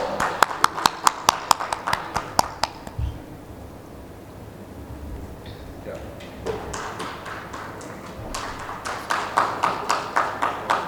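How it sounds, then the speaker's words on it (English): A small audience at a legal panel event gives a round of applause during a memento presentation, sparse rhythmic claps at the start and again near the end, with a quieter gap of murmuring and shuffling between. "Give them a huge round of applause."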